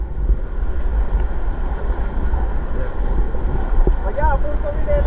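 River rafting at Rishikesh, with a raft on rushing water under steady wind buffeting and a constant low rumble of water, and voices calling out faintly over the noise.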